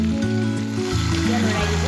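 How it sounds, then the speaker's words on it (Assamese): Flowers fry in oil with ginger and garlic, giving a steady, close sizzle that runs unbroken through the clip, with a faint voice or tonal hum underneath. "এইটো ফুল খিনি ফ্ৰাই কৰি আছে আদা নহৰু দি একদম সুন্দৰভাৱে"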